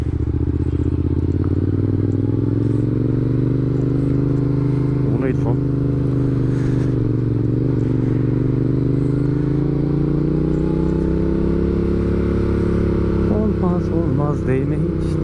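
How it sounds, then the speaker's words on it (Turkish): Steady low engine drone from a Yamaha MT-07 motorcycle while riding, loud and continuous throughout, with a few brief rattling bursts. "motorun sesinden kendi sesimi duyamıyorum"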